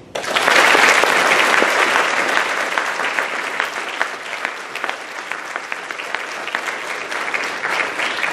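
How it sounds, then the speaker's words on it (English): Loud, sustained audience applause at a school ceremony with an Army band, a thick wash of many hands clapping that swells early and then holds steady. "Let's give a big round of applause to the U.S. Army."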